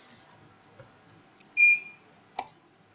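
Sparse, faint computer keyboard typing while text is entered into an Excel spreadsheet: a few separate key clicks in a quiet room, with no talking.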